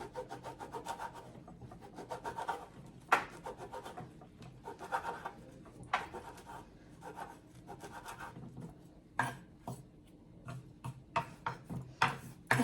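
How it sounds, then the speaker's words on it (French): Rapid, dry rasping strokes of a knife finely chopping kadaif pastry on a board, a steady run of close, soft scrapes broken by sharper taps, no talking. "On va bien hacher en tout petits morceaux, plusieurs fois, pour que ce soit hyper fin."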